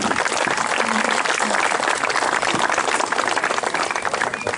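Crowd applause for the Moskvitch-class podium finishers at a folk sprint car race, a dense continuous wash of clapping that stays loud throughout.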